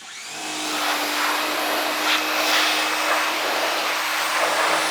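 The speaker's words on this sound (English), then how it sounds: "I'm gonna try my little girly pressure washer, and if I need more, I'll bust out the big one." A small pressure washer spraying wheels clean: a steady, loud, broadband rushing hiss that swells at the start and holds without a break, close by, with no talking.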